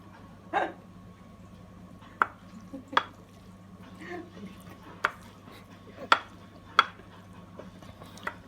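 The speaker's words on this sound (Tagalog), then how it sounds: "Ihalo-halo lang natin, guys" Spoon stirring a beef meatball mixture in a bowl: sharp, sporadic clinks and scrapes, about half a dozen over several seconds, with faint background hum and a low voice speaking briefly.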